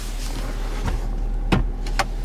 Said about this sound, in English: unlock and lock the car